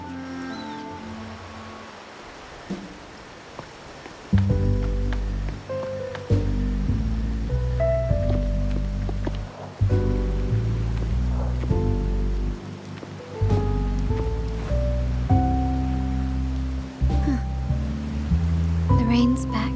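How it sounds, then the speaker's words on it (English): Steady rain falls throughout in Wuthering Waves, a soft constant hiss beneath low music and a voice speaking intermittently. "The rain's back."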